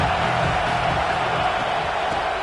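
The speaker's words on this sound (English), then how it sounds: "This crowd bringing the energy and noise early." Stadium crowd noise from the College Football 26 video game, a steady, loud roar of many voices that holds without a break.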